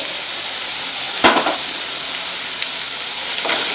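Ginger and garlic fry in a pan for a Telugu-style korameenu fish pickle, giving a steady loud sizzle with one sharp stir or clink partway through and no voices.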